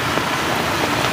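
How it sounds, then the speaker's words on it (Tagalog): Steady rain pouring down at night in the Philippines, a loud dense continuous wash of drops hitting surfaces close by, with no voices over it. "Walang tigil ang ulan, no?"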